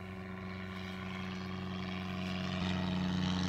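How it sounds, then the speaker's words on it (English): A low-wing, fixed-gear light airplane in flight on a calm day: a steady, droning propeller engine hum heard close from the cabin, swelling slightly louder toward the end, with no talking. "It's a low-wing, fixed-gear putt-putt. But it flies."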